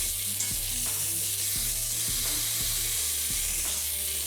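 Beef brisket searing in the bottom of an Instant Pot, a constant dense sizzle with a low appliance hum and regular knocks of a utensil moving the meat about.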